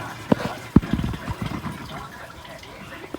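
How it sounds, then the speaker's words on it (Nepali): Water splashes and pours in uneven bursts as someone bathes outdoors in a village, with a few sharp splashes early and quieter trickling afterward. "भुन्डे दाइ चाहिँ नुहाउनु आँट्नु भयो"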